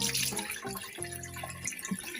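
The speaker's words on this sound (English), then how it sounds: "now I'm going to rinse it again" A box being rinsed under running tap water, close splashing and trickling with drips and a steady stream that changes pitch as the flow hits the box, no talking.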